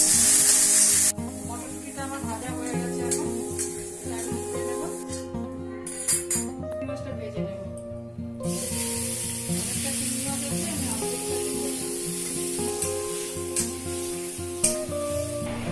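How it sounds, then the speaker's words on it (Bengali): Green peas fried briefly in a little oil in a pan, a close sizzle under a background tune, broken by a short quiet stretch and a few light clinks. "মটরশুঁটিটা একটু ভেজে নেব অল্প করে।"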